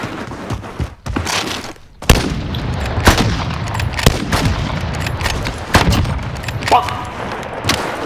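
Gunfire in a sniper shooting video game: several sharp, loud shots crack out at irregular intervals over a busy, noisy game soundscape.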